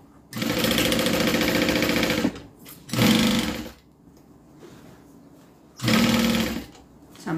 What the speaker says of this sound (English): now we sew